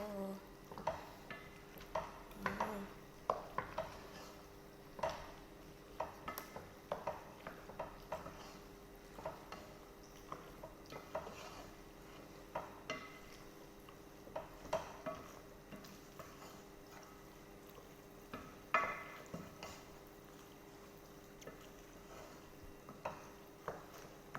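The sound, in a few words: stirring red pasta in a pan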